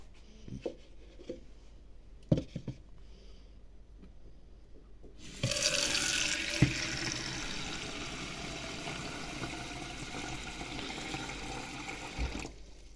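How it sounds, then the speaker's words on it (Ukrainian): Water poured into a large pot of sliced winter apples for apple jam, a steady splashing pour starting midway and running to the end, close by, after a few quiet clinks and knocks. "На двохвідерну каструлю наливаю пів літра води."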